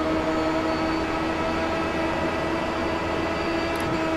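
Dallara Dash race cars run at Charlotte Motor Speedway in the iRacing simulator, their engines a loud, steady, unbroken roar with a droning tone throughout and no talking.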